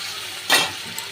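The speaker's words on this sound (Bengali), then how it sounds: "দিয়ে আমি ভালো করে ভেজে নেব।" Potatoes fry in oil in a pan, a steady low sizzle broken by one short burst of louder crackle or stirring near the middle, heard close.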